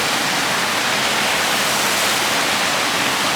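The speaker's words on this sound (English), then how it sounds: "Sounds like a waterfall." A waterfall near a small wooden bridge roars as a loud, steady broadband rush that fills the whole moment without change or any other sound.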